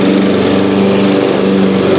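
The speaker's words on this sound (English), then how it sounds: "I think the exhaust valve is out of adjustment because it has a pretty hard knock to it" Yard King riding lawn mower with a small pancake muffler, its engine running steadily and loud up close with a hard, rhythmic knock attributed to a maladjusted exhaust valve.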